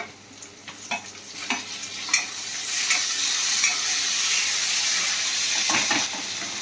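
Chopped tomatoes drop into a pan of golden-fried onions, with a few soft stirring knocks before a loud, steady sizzle and hiss takes over and holds close up.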